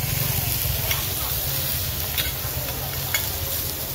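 Oysters being stir-fried on a giant pan at a busy street food stall in Nakhon Pathom, with a steady sizzle under constant scraping and stirring that carries on without a break through the whole stretch.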